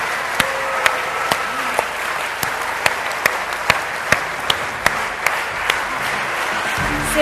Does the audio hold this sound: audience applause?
yes